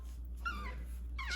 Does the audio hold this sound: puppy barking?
yes